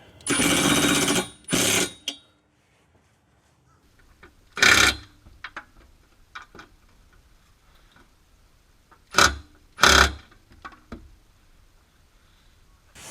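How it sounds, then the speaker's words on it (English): An impact wrench snugs up the bolts of a tow hitch on a Kia Sorento or Hyundai Santa Fe, sounding as several short, loud bursts: two close together at the start, then single bursts spaced apart with quiet gaps between. "And now we can come in with our impact, and we're not going to snug them up completely"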